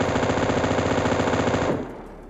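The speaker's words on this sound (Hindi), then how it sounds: "अपने M249 का आवाज़ सुनी भाई" An M249 machine gun fires a fast, continuous burst in a battle-royale shooter game, loud and close, then stops abruptly and leaves a fading tail.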